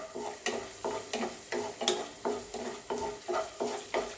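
Pool makhana (fox nuts) roast in a pan with chilli, stirred in a steady rhythm of about ten scraping strokes over a soft sizzle, close and moderately loud.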